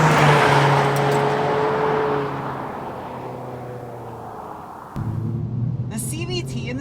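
A 2022 Toyota Corolla XSE Apex Edition with a CVT revving from inside the cabin, its engine note falling away, then snapping back after a quick simulated shift, with a voice talking over it.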